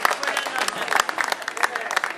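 Concert audience applauding at a Christmas market show, a steady burst of close, dense clapping mixed with crowd noise and a voice speaking over it.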